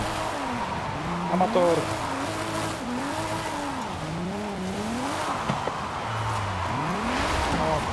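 A BMW E36 M3 drifts on a slippery, rain-soaked road in Forza Horizon 5. The engine revs rise and fall in sweeping waves with intermittent tire squeal, and someone talks throughout.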